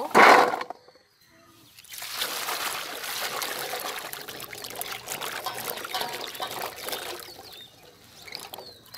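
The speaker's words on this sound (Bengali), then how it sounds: "এখন আমি আলুগুলো ধুয়ে নেব।" Potatoes are rinsed under running water, a steady splashing flow that follows a brief loud knock at the start and carries on close and fairly loud, fading slightly near the end.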